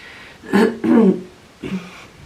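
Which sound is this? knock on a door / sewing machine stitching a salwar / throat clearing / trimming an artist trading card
throat clearing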